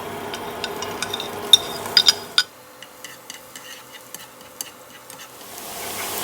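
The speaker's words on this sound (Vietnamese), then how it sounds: "Em cho hết phần đầu hành và tỏi băm vào em phi thơm nè." Minced shallots and garlic frying in hot oil in a pan, a close, steady sizzle with scattered sharp crackles and pops, easing to a softer hiss after a few seconds.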